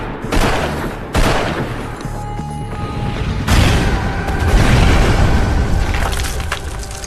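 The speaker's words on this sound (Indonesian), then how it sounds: "ia nyaris mati akibat granat yang meledak di hadapannya" A grenade explosion and gunfire in a film erupt as loud, dense booms and crackling bursts, with sudden blasts at the start followed by a sustained roaring rumble, no talking.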